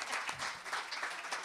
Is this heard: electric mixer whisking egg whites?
no